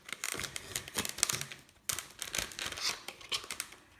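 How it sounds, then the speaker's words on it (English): Scissors cutting open the plastic packaging of a radio-controlled toy mouse, crinkling plastic and snipping in quiet, irregular bursts close by with a short pause midway. "I'm just going to get some scissors to open this"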